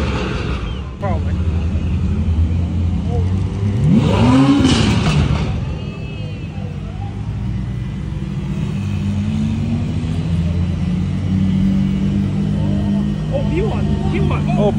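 McLaren P1 and Ferrari LaFerrari supercars pulling away from a light on the streets of Monterey during Car Week, a loud rising engine roar around the middle that swells and then fades into steady traffic rumble, with people talking over it.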